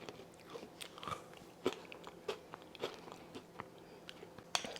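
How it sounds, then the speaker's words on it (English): Close, wet chewing and biting on a thick protein Oreo McFlurry sludge, with repeated crunchy bites at irregular intervals and no talking. "With the gross chewing."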